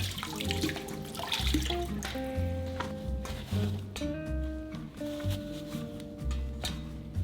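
Lemons soaked in salt are rinsed under a running kitchen tap, a steady close splash of water with shifting tones as the fruit is turned and handled.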